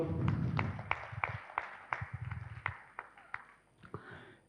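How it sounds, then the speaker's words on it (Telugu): An audience claps for Prabhakar at a meditation gathering, scattered sharp claps in an uneven rhythm that thin out toward the end, with talk underneath at the start. "ఒకసారి మన ప్రభాకర్ అన్నకి గట్టిగా చప్పట్లు కొడదాం."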